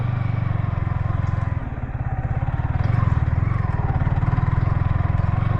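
A motorcycle rumbles close by on a rough off-road trail to Godawari Marble Danda, its engine throbbing steadily with a brief dip and then a swell of revs, while loose parts clatter over the bumps.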